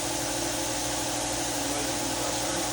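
An air compressor runs in a garage workshop with a dense, steady mechanical drone and rattle, loud and unbroken for the whole stretch, with no pauses or cycling.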